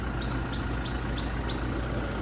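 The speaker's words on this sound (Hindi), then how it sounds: "डीजल इंजन है तो इतना तो एक्सपेक्टेड है भाई कि आवाज़ करेगा।" A Toyota Innova Crysta 2.4 diesel engine idles with a steady, even clatter heard from outside the vehicle, while a bird chirps briefly several times over the hum and no one speaks.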